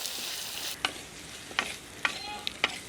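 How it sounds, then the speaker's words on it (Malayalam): Sizzling frying of drumstick pieces with turmeric and salt in a pan, with several distinct scraping stirs of a spoon, close and clear, no voices. "ആ മുരിങ്ങാക്കായ ഇങ്ങോട്ട് കൊടുക്കുക എന്നിട്ട് അന്ന് ഇങ്ങോട്ട് ഇളക്കി കൊടുക്കട്ടോ"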